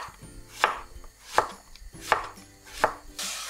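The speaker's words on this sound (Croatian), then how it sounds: "onaj ostatak tikvice ćemo narezati na male tanke ploškice" A kitchen knife slices a zucchini into small thin rounds on a cutting board for a meatball-and-zucchini dish, four crisp separate cuts spaced evenly apart, close and clear, with no talking.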